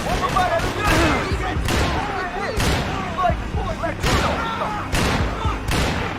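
A video game shootout with Max Payne: repeated loud gunshots, roughly one every second, crack out over a busy background while players shout and talk.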